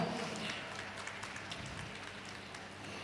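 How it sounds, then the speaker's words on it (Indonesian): Audience applause for a film producer at a Kemenpar event, a dense, steady wash of clapping filling the whole stretch at moderate level with no distinct voices on top. "boleh tepuk tangan yang meriah untuk Mbak Rida"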